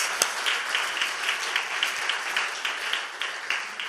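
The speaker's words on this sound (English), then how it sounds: "can you all give yourself a big applause?" An audience at a spiritual talk on service applauds itself; steady, moderately loud clapping from many people with a lively pulsing texture, continuing throughout.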